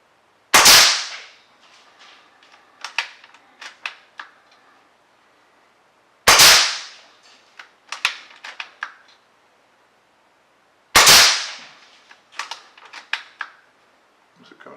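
Three crisp, close air rifle pellet shots at an outdoor range, evenly spaced, each sharp crack followed by a flurry of small clicks and clacks from cocking and indexing the magazine, with quiet gaps between.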